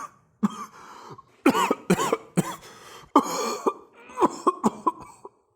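A man coughs repeatedly in a dramatic reading, rough hacking bursts in uneven clusters, loud and close, trailing into shorter weaker coughs.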